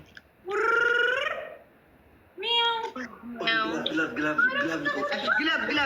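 People imitate cat meows with their voices: a long, high, wavering meow, a shorter second one, then a string of quicker meows blending into chuckling and talk.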